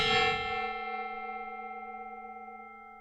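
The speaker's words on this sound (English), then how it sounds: "I gotta break the gong out. It's gong time." A decorative gong is struck once, opening with a bright clanging attack and settling into a long, steady, shimmering ring of sustained tones that slowly fades, close and alone.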